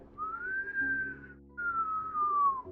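A voice imitates a ghost's high-pitched whistling scream, rising and falling in two long wavering tones with a short break between them, sounding like wind at night.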